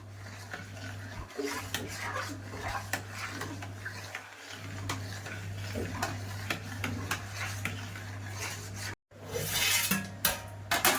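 A spoon keeps working thick sorghum ambil batter around a cooking pot, making continuous rasping, rubbing scrapes close by, with a brief pause near the end before the stirring resumes.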